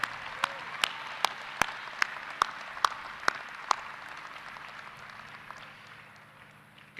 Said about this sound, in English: one more round of applause for the wonderful performance by our graduating School of Music,